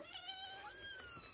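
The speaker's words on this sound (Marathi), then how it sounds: "तर ही आहे आमची मांजर, ही आहे आमची मांजर आणि तिची पिल्लं।" A mother cat and her kittens meow in a series of short, high, close calls, the cries overlapping and rising toward the end with no talk over them.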